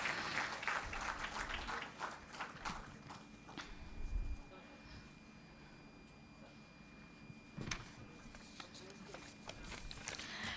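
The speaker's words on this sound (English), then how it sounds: "Please give them a big round of applause" Audience applause after a presentation at an international conference on traditional and alternative medicine, fairly faint and uneven, swelling and thinning with a few sharper claps and some voices mixed in.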